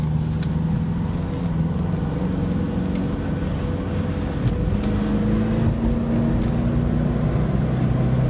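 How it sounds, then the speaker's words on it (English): A Saab turbo car with a leaking fuel line accelerates at full throttle, its engine a steady loud drone with rising tones, heard from inside the cabin and continuing without a break. "We're gonna give it full throttle."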